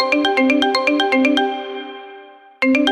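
A mobile phone ringtone plays loud and close as a bright, rapid run of melodic tones, then a held tone that fades before the tune starts again.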